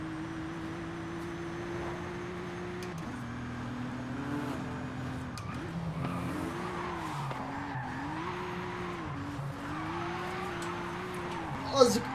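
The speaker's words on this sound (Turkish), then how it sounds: "Sese bak oğlum uçak gibi araba oldu." Modified car in Forza Horizon with a steady roaring engine, pitch dropping at a gear change and then rising and falling as it skids, tire squeal mixed in, loud and close throughout, with a brief sharp hit near the end.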